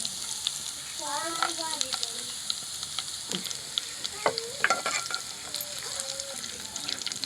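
Garlic and chillies frying in ghee for a tadka for saag, a strong continuous sizzle and crackle close by, while a voice speaks briefly over it.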